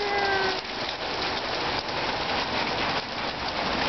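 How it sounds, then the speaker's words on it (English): Light rain sprinkles steadily on a sunny day in Florida, a dense, even hiss of drops on surfaces with no voices. "got just a little sprinkle here in the sunshine state today."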